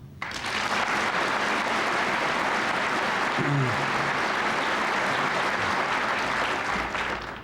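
A conference audience answers a show-of-applause survey about the Blue Jays winning with a loud, dense burst of clapping that holds steady for about seven seconds, and a brief voice cuts through midway.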